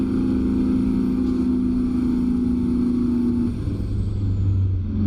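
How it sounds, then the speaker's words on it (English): A heavy truck engine in American Truck Simulator, a modded truck labouring up a hill, holds a steady low droning growl that shifts down in pitch partway through, loud and continuous with no voices. "Yeah, you hear it. It's struggling right now."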